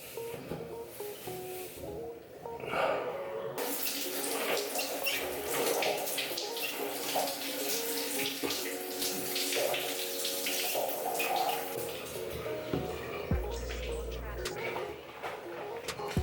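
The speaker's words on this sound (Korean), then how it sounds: "얼굴을 씻었으니까 샤워를 할게요" Shower water runs in a home bathroom during a morning routine, a steady loud hiss of spray starting after a few seconds and continuing throughout, with some thumps and handling noises.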